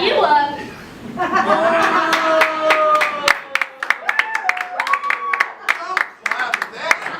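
An audience claps in scattered bursts at a church back-to-school gathering, the sharp claps overlapping talk and chuckling laughter.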